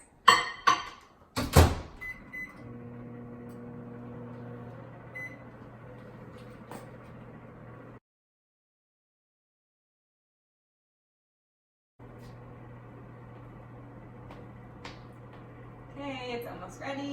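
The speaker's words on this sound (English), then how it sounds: "pop this baby in the microwave for 60 seconds" A microwave oven hums steadily while heating a quick healthy dessert for 60 seconds, after a door bang and beeps at the start; the hum pauses into silence midway, then resumes, ending with faint clatter.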